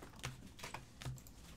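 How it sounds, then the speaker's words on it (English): Quick bursts of typing on a computer keyboard during a baseball card case break stream, several sharp key clicks in an uneven rhythm, close and fairly quiet, with no voices. "I'll type it in right now."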